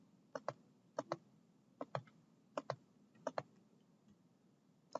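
Crisp, quiet clicks come in quick pairs, about six double-clicks spaced roughly evenly, close and dry against a faint hum, like a computer mouse being clicked repeatedly, with no talking.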